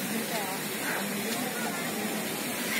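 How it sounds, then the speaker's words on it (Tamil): Steady rushing hiss of a waterfall, the Monkey Falls near Aliyar dam in Tamil Nadu, constant and broadband, heard from some distance with no other clear sounds. "இப்ப வந்துட்டு அருவி விழுகிற சவுண்ட் நல்லா கேக்குது."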